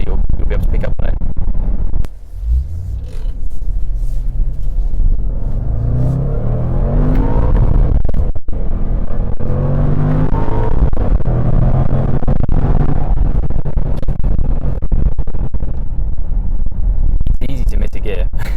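A Jaguar F-Pace SVR's V8 rumbles steadily from inside the cabin while driving, its pitch rising through a long acceleration. A thin whine rides on top of the engine note, and occasional talk is heard over the drone.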